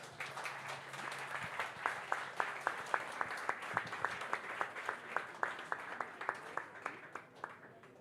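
An audience at an astronomy talk held in a bar applauds, with a rhythmic unison clapping emerging over the general applause and continuing steadily before fading near the end.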